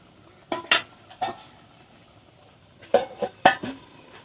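A village kitchen in Bengal where a cooking pot's lid is lifted off a simmering banana-stem and prawn curry, giving a few close metallic clinks and scrapes in two short bursts separated by a quiet pause.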